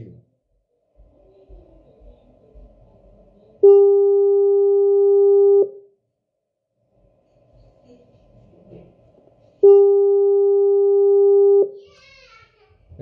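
A telephone ringing tone sounds twice, each a steady two-second electronic tone separated by a pause, with faint murmuring between the rings.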